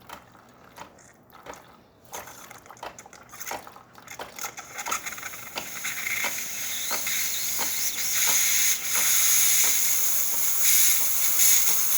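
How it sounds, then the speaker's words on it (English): Clicking and sputtering give way to a steady, rising hiss that builds and holds loud toward the end, as a DeLonghi Magnifica espresso machine's steam wand first shoots hot water and then starts steaming. "Now it's going to shoot hot water for a little bit, but then after a while it will steam."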